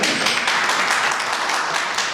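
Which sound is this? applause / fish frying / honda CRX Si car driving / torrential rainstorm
applause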